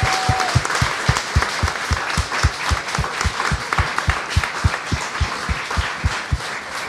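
Studio audience at a live TV show applauding, with the clapping carried under a strong, regular rhythmic beat of thumps or stomps that keeps pulsing steadily the whole time.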